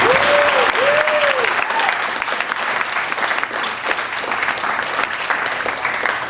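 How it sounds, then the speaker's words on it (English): Audience at a restaurant event applauds its hosts, dense sustained clapping filling the room from start to finish, loud and close, with a brief whistle-like tone early on. "So let's give them a round of applause."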